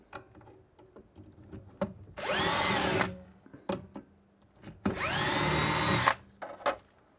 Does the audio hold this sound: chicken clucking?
no